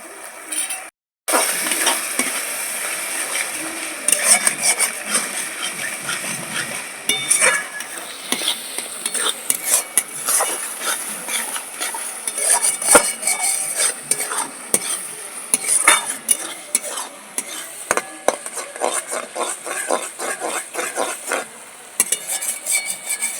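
A spice masala of cumin powder, salt, turmeric and Kashmiri chilli powder being stir-fried in oil until the oil separates: dense, continuous scraping and clattering of a ladle in a pan over a busy sizzle, close and loud throughout.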